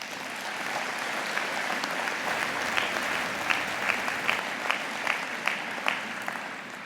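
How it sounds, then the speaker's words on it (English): An audience at a state FFA convention opening session gives a sustained round of applause for advisors, with steady clapping and some louder individual claps standing out. "Let's give one more round of applause for all of our advisors and the work that they do for us."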